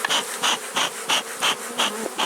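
Honeybees being shaken off hive frames from a wax-moth-infested hive buzz loudly and close, in rhythmic pulsing bursts about every third of a second, with no talk.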